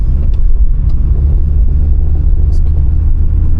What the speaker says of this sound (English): we're going to lug it as we downshift it